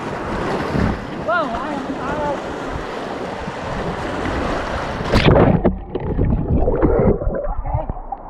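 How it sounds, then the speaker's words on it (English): White water rapids rush loudly around a person floating backwards in a swim ring on a river, turbulent water and wind buffeting throughout, with a shout and brief talk over it and a sharp splash as the rapids hit. "there's some white water coming up here, and I'm doing it backwards"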